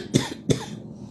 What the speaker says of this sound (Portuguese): por isso que eu tô tossindo muito